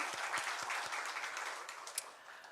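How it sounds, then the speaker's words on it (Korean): A church congregation at a Sunday service claps in praise, the applause faint and distant, with scattered sharper claps standing out in a soft steady patter. "우리 하나님께 영광의 박수 올려드리겠습니다"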